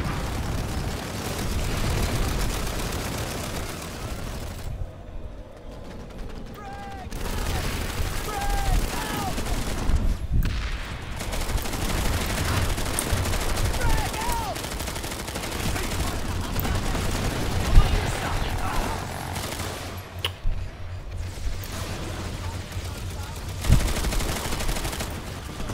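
Rapid gunfire and explosions from a large battle in the video game Planetside 2, crackling in dense bursts at moderate distance, with brief lulls and a voice talking over the chaotic mix.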